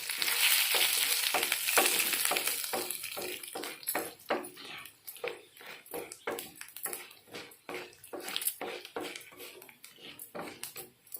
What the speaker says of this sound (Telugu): ఇవి బాగా వేపుదాము.